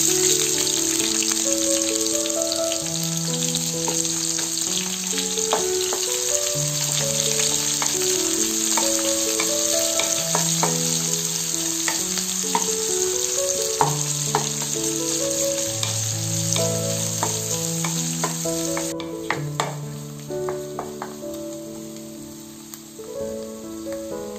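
Onions added to hot oil with golden chana dal, frying in a steady loud sizzle with scattered crackles and occasional stirring scrapes, close up, easing somewhat toward the end.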